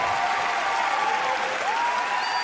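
Comedy club audience in San Francisco bursts into steady, dense applause, a loud continuous wash of clapping without a break.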